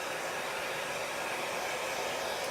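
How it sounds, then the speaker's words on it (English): A hair dryer blows steadily with a constant, airy whoosh, close and unchanging throughout, with no voices. "my hair dryer's just on warm."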